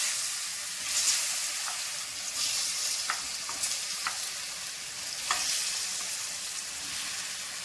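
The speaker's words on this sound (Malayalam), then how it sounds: "അതേ നെയ്യിലോട്ട് തന്നെ ഏത്തക്കായും കൂടെ ഇട്ട് മൂപ്പിച്ചെടുക്കാം." Chopped banana fries in ghee in a pan, a bright, continuous sizzle close by, broken by light scraping taps of a spoon as it is stirred.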